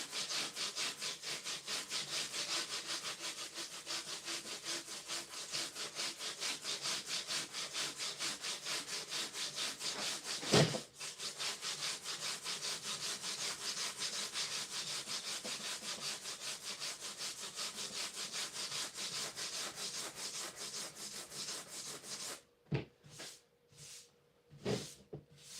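Steady, close scraping of a sanding block across a styrofoam mold, a continuous rasping rub with one sharp knock midway before it breaks into a few short strokes at the end.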